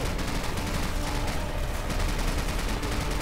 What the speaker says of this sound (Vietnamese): Này dùng mấy súng máy này của mình bắn sập hết mấy cái ổ súng của nó.